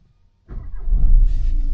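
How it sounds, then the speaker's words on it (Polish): A car engine starts close by: near silence, then a sudden crank that catches and settles into a steady, low idle rumble. "Zapalamy samochód."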